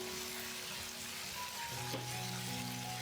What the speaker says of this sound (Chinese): 翻炒均匀之后，我们把芹菜末倒进来。